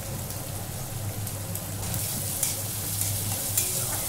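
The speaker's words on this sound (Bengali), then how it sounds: "এটাকেও আধ ভাজার মতন করবো, একটু লাল লাল হবে, নরম হবে পেঁয়াজটা করব।" Onions sizzling in hot oil in a pan, a continuous bright frying hiss with faint stirring scrapes, moderately quiet and steady throughout with no voices.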